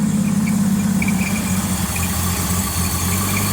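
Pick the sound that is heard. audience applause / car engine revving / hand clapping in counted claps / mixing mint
car engine revving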